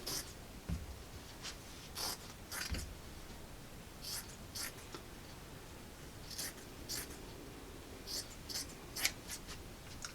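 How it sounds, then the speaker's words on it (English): Fabric scissors snip up the side seam of a T-shirt in a series of close, crisp cuts, irregular bursts of crunchy snipping with soft rustling of cloth between them. "with my fabric scissors, I'm just going to cut up the side of the shirt on one side"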